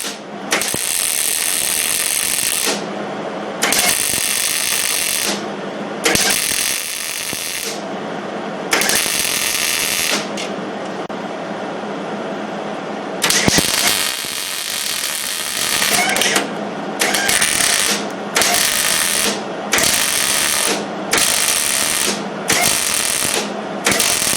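Hobart 140 MIG welder running with shielding gas, giving repeated bursts of bright crackling hiss a few seconds each, broken by short pauses, close and steady during each bead.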